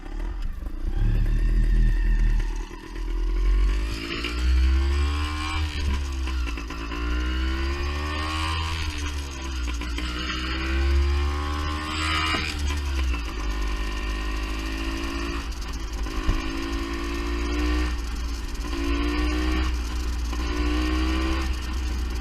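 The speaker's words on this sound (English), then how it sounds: "Bike is running lean again." A vintage Beta Synt trial motorcycle runs lean while being ridden, its close, loud engine droning steadily as revs rise and fall in repeated swells, with no talking.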